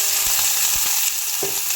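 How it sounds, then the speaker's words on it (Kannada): Green chillies fry in hot oil in a pan for a North Karnataka chutney, giving a dense, bright, continuous sizzle with a few soft clicks, close up and with no talking. "ನೋಡಿ ಈ ಥರ ಫ್ರೈ ಆಗ್ತಾ ಇದೆ"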